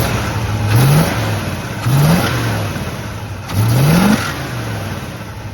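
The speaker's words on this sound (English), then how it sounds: "It's got a set of glass pack mufflers on it, so it's got that extra rattle." A 1955 Chevy Bel Air engine revs three times through loud, raspy glasspack mufflers on a dual exhaust, each rise in pitch falling back to a rumbling idle between bursts.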